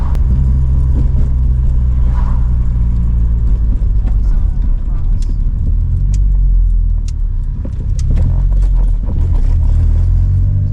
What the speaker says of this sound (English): Damn roof rack makes so much noise.